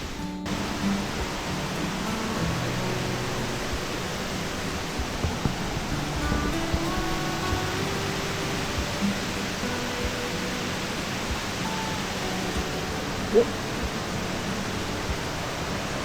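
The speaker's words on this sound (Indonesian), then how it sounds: "Karena ini musim penghujan, air terjun luar biasa derasnya." A torrential waterfall swollen by rainy-season flow on the Gunung Kahung trail roars as a steady, dense broadband rush, close and continuous for the whole stretch with no talk over it.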